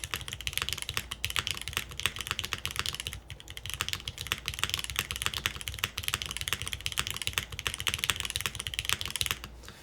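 Neo98 mechanical keyboard fitted with alternative gaskets, typed on hard and fast in a dense, continuous clatter of keystrokes, close and steady throughout with no talking.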